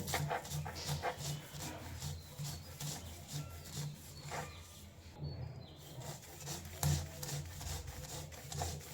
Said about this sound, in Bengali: এবার শিলপাটায় বেটে নেব।